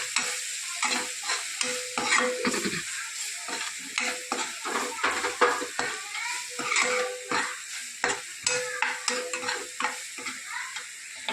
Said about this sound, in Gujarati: સરસ બધું સોતે કરી લઈએ.